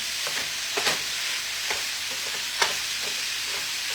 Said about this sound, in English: You're loving the sound of that sizzle.